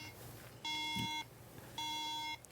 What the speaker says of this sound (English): Why do you want to make your MacBook Air beep?